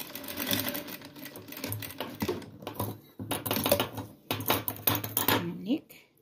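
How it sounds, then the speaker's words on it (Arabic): A sewing machine stitches along the edge of a fabric pouch in several short, rapid whirring bursts separated by brief pauses, close and fairly loud. "ندوز عليهم خياطة في الطرف كيما هاكا"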